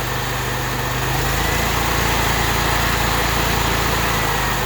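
A Honda engine on a Polaris UTV runs at half choke, a steady loud idle drone with even pulsing and a dense hiss, close and continuous throughout with no talking.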